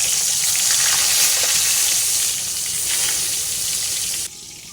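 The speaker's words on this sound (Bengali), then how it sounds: "ইলিশ মাছ ভাজা যে তেল ছিল তার ভিতরে দিলাম একটু বেগুন ভাজি" Brinjal slices fry in leftover hilsa fish oil with a loud, dense, continuous sizzle close by, easing slightly before dropping off near the end; no one speaks.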